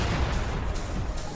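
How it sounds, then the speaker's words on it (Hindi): A loud explosion sound effect from an audio story: a dense, roaring burst of rumbling noise that fills the moment briefly and stays heavy throughout. "देखते ही देखते एक जोरदार धमाका हुआ"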